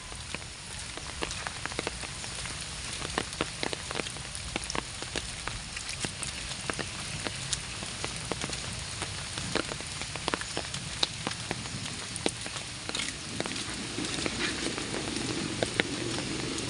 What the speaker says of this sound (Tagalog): Umuulan nga lang guys.